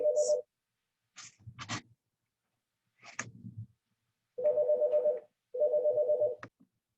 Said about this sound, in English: It's school, so you know the phone's going to ring and interrupt class time.